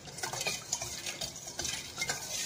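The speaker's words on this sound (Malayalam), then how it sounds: "നമ്മൾ ഇളക്കി കൊടുത്തുകൊണ്ടിരിക്കണം, അല്ലെങ്കിൽ അടിയിൽ പിടിക്കും." Spoon stirring a pudding mixture in a pan on the stove, with steady scraping and light clinks against the pan at close range, no talk.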